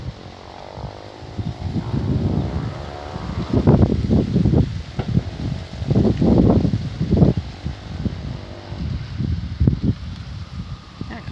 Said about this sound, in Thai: ลมเย็นสบาย